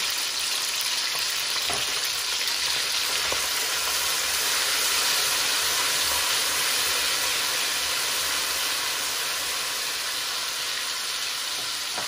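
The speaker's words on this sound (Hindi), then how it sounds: "एक दो सेकंड के लिए इसको भी हिला लेंगे साथ ही हम डालेंगे हल्दी" Turmeric and spices frying in oil in a pan for a potato curry, a loud continuous sizzle and hiss with faint scraping from stirring, steady throughout and close up, no talking.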